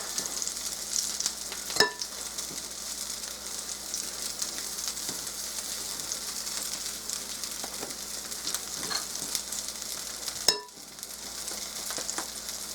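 Lentil burger patties fry in oil in a skillet with a steady, close sizzle and crackle that runs throughout, broken by two sharp clacks.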